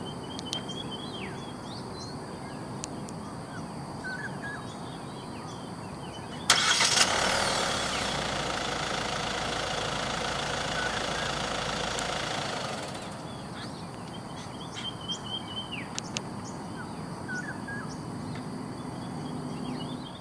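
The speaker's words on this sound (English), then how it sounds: "The STARIA in Malaysia does come standard with a remote engine start system" A 2022 Hyundai Staria 2.2 CRDi diesel van starts remotely with a sharp crank and catch, then idles steadily for several seconds before shutting off, heard from a short distance with faint chirps around.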